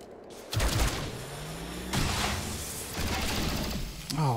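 Gunfire erupts during a breach attack in XCOM Chimera Squad, several bursts of loud overlapping shots and mechanical clatter spread across the clip, with a brief voice-like sound near the end.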